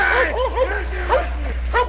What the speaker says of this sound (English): So there's a dog barking and yelling and jumping at the guy